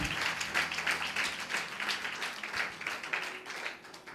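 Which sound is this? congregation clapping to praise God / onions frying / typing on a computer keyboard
congregation clapping to praise God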